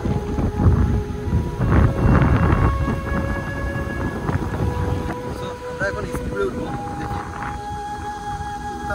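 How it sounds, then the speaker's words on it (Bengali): A speedboat rides a rough sea off Parki Char beach near Chattogram, with heavy wind buffeting and rushing water in a dense roar that surges and settles, while a person talks over it. "সমুদ্রের ভিতরে স্পিড বোটে চড়তে আসলে কেমন লাগে এটা ট্রাই করি"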